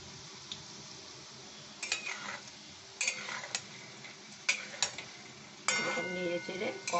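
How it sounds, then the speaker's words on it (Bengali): Small baby chicken samosas frying in oil over low heat in a pan, a soft steady sizzle broken by scattered utensil taps and stirring scrapes that grow busier toward the end. "নেড়ে চেড়ে কম আঁচেই এটা ভেজে নিতে হবে"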